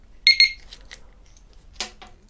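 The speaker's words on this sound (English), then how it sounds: "close it this time, it should beep twice" An Oxford Scoot XA5 disc lock alarm gives two sharp, high electronic beeps in quick succession, close and clear, followed by faint clicks and a brief rustle of handling.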